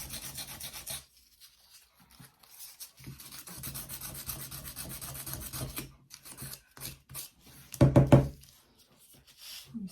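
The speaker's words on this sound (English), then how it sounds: "you might be pushed a bit, sanding it this vigorously" Brisk, rasping sanding strokes on a small wooden piece for a 1/12 scale miniature come in uneven bursts, with a louder knock near the end.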